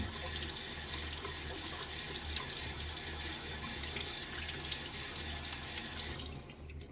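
Water running steadily from a tap as a shaving spoon is rinsed, a continuous close splashing stream that cuts off abruptly near the end.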